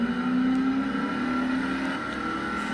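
An electric-converted Triumph Vitesse accelerates, a steady whining motor tone with a faint rising hum under road noise, fairly quiet and continuous.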